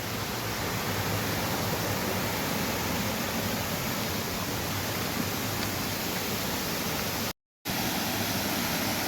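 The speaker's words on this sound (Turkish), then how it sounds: "Şelaleye gelmiş bulunmaktayız." A waterfall in Theth National Park in the Albanian Alps gives a loud, steady broadband roar of falling water, close by and constant, cut by a brief silent gap near the end, with no talk.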